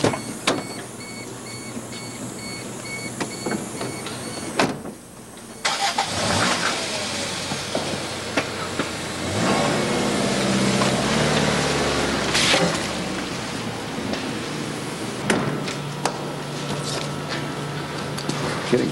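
A car is driven into a technical school's auto shop on a chilly winter day, its mid-pitched engine idling and revving close by amid the shop's echoing clatter, with a brief dip partway through.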